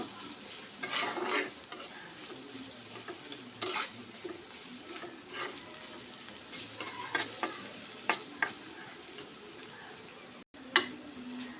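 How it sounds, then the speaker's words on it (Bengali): Onions fry in a pan until browned, with a spoon stirring in repeated scraping bursts over a soft, steady sizzle, close by and fairly quiet, with one brief cutoff near the end. "এগুলো লাল লাল করে ভাজি নিবে এখন বাদামি কালার হয়ে আসলে মশলা দিয়ে দেব"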